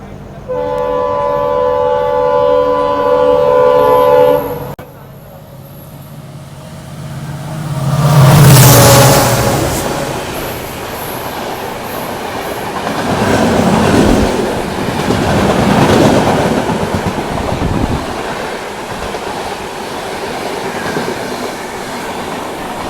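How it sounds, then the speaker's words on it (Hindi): The Rajdhani Express sounds its horn and rushes past a small railway station, a loud roar of wagons with clickety-clack rising and falling, heard close from a train halted there. "ये आ गई अपनी राजधानी एक्सप्रेस।"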